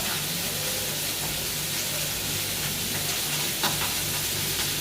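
Fish frying in a pan makes a dense, continuous sizzle with a crackling hiss, steady and close throughout, with no voices over it.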